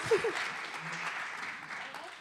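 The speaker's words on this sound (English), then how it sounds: "keep the claps going for Ellie Wade, please" Audience applause for poet Ellie Wade at a live poetry jam: steady, moderate clapping from a small crowd over a short stretch, with a brief voice near the start.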